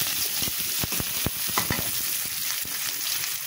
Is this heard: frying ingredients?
yes